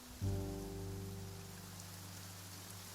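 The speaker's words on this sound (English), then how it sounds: "It's raining." Rain falls in the Genshin Impact video game as a soft, steady wash beneath a low sustained hum, faint and continuous, ending on a brief chime.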